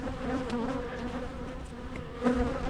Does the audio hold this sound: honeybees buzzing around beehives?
yes